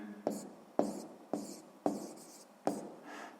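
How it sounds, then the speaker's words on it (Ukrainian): Pen or pencil writing out the answer to a sixth-grade math word problem, five short scraping strokes in a steady rhythm, close and fairly quiet, with no talking. "Пишемо відповідь."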